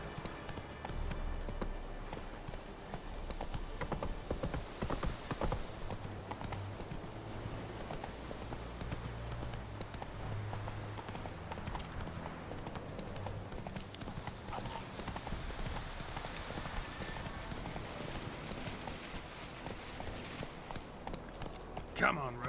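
The horse Roach gallops in The Witcher 3, rapid rhythmic hoofbeats clip-clopping steadily under spoken game dialogue, with a brief whinny-like flourish near the end.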